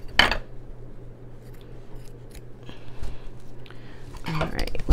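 Scissors snip through fabric for machine embroidery, with one sharp cut at the start and another burst near the end, sparse clicks in between and a low steady hum underneath.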